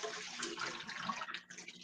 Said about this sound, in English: I'm just holding the fries in the bowl as I pour out the water